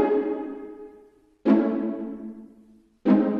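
Plucked pizzicato violin chords from an orchestral software instrument in FL Studio ring out three times, each struck sharply and then decaying over about a second and a half, clean and alone.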